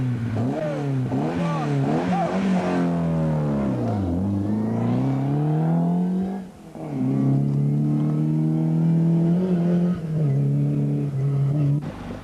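A rally car at a stage start on the 1987 Tour of Mull revs hard and accelerates away, engine pitch climbing through gear changes, loud and close, then dipping briefly before pulling strongly again.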